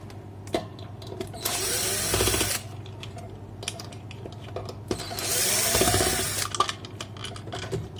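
Two screws are backed out of the rear of a 220-volt incubator fan with a power screwdriver, giving two separate short whirring bursts close by, set among small clicks and handling taps over a low steady hum.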